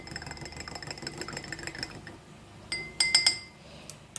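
A spoon stirs 1 ml of vinegar into water in a glass, giving a few bright clinks against the glass near the end after a stretch of quieter stirring and background hum.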